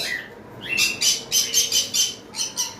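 Cockatiels from a farm flock call in a run of about eight sharp, bright squawks at a fairly steady rhythm, close and moderately loud, with no talking.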